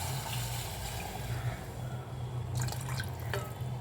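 Water being poured from a cup into a pot for little millet pongal in a home kitchen, a soft trickling and splashing with a low hum underneath, then a few brighter drips and splashes toward the end.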